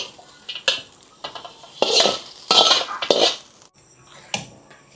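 A metal spoon stirs and scrapes rice porridge in a cooking pot, giving several close clanking and scraping bursts of uneven length with short pauses between them. No one speaks.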